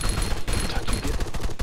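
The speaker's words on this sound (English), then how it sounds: "I hear shots" Rapid bursts of gunfire in a multiplayer shooter game crackle loud and close, overlapping into a dense fusillade that continues without pause across the short stretch.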